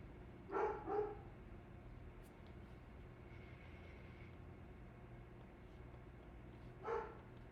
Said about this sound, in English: I'm gonna have to go calm Winnie down in a second if she doesn't stop barking